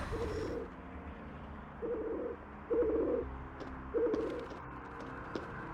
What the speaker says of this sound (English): We got the pigeon noises back.